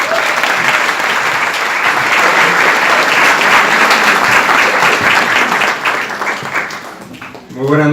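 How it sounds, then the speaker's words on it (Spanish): Loud, sustained audience applause welcoming a speaker onto the stage at an evening money-training seminar, dense clapping filling the room, easing off near the end as a voice begins. "Un aplauso por favor para Moni Farrage"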